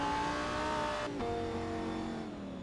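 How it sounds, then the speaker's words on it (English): A GT3 race car engine in a racing video game at Le Mans hums steadily at low revs, short-shifting, with a brief dip and shift in pitch partway through, loud and close with no talking. "It sounds like he's short shift and running those lower revs right now"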